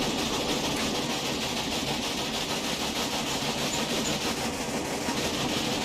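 A train in the Railway Empire video game climbs onto a bridge over a river, producing a steady, loud rumble with rhythmic wheel clatter that runs evenly the whole time, with no voices.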